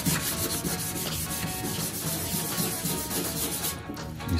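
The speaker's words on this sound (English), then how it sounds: "Sands a lot off." Old paint being sanded off the door jamb of a Chevy C10 squarebody pickup, a close and continuous abrasive rubbing with a steady back-and-forth scratch that runs throughout without talk.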